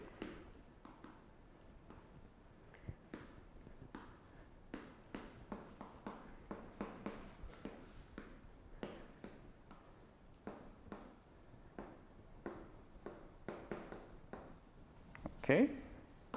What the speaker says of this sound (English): So let's write this as a definition.